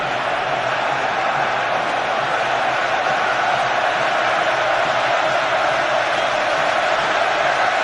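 A huge football crowd at Wembley during an England match roars continuously and loudly, a dense thunderous wall of noise with no breaks.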